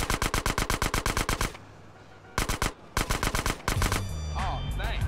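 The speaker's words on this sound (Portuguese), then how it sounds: "Não precisa se preocupar com essa galera atirando na gente." Rapid automatic gunfire in the video game GTA San Andreas, with loud, evenly spaced bursts of shots separated by short pauses, followed by a lower rumble and game sounds.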